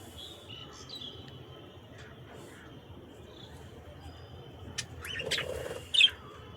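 Faint high chirps from lovebirds over a steady outdoor hiss in the morning, with a brighter burst of chirping near the end.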